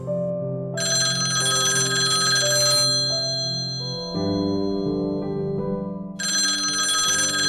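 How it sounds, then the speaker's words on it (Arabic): An old-style telephone bell rings in two loud bursts, with a sustained tone between them. "لقيت نفسي برن عليها التليفون"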